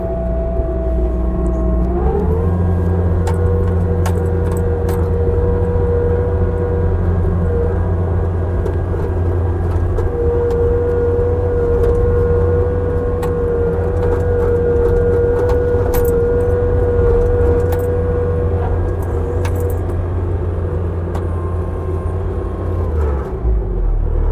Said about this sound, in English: Let's go ahead and drive it forward here for you.